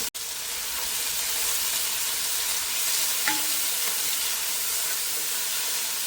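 Shallots, onion, green chili, curry leaves, ginger and garlic frying together, a bright, steady close-up sizzle and hiss with one brief stir clink partway through, no talking.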